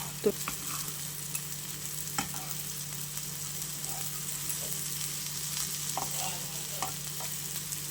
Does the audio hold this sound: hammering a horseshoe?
no